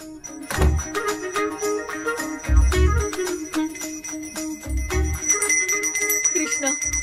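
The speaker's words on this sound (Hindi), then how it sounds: "यहाँ पर घंटी बजा रहे हो मैं कहाँ बजा रहा हूँ बेटा ये तो अपने आप बज रही है" A bell rings repeatedly in bright metallic bursts, several strikes spaced a couple of seconds apart over a steady ringing background.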